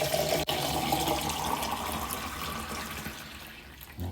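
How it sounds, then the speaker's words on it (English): Water poured into a container during breakfast prep, a continuous splashing, trickling stream that runs steadily for several seconds and tapers off toward the end. "Now I'll pour my water in."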